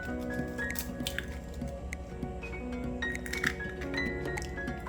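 Eggs are cracked into a bowl while mixing a non-alcoholic Christmas plum cake. Soft, close clinks and taps sound against the bowl, with wet squishes and drips over a low kitchen hum.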